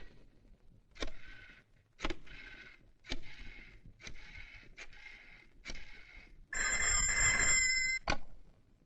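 A telephone ringing in a room, a series of short bell-like rings repeating about once a second, followed by one longer sustained ring and a final short burst, clear and alone with no talk.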